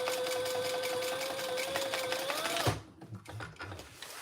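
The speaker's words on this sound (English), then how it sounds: "This is really a quick sew, honestly." A sewing machine stitches a triple sling bag in a rapid, continuous mechanical whir, close and fairly loud, then stops abruptly after under three seconds, leaving faint handling noise.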